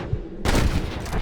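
Gunfire erupts in the Red Dead Redemption video game while shooting at cattle rustlers, a sudden loud burst of shots starting abruptly after a quieter lead-in and continuing densely to the end.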